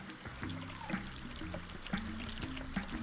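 Water pours and trickles in the VR game Vacation Simulator, with a bubbly, gurgling stream over a faint tonal background and soft splashes recurring at a moderate, fairly quiet level.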